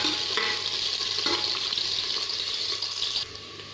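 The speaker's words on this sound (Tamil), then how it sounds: "வெங்காயம் நல்லா வதக்கிக்கலாம்" Sliced large onions sautéing in a pan with a steady bright sizzle and occasional stirring scrapes, close and continuous, easing off near the end.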